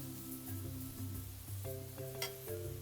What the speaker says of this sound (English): Keep stir frying until the leek gets soft.